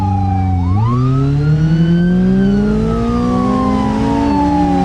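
A police car siren in BeamNG Drive, loud and close, with a continuous wailing tone that dips, then slowly rises and falls over a steady road hum.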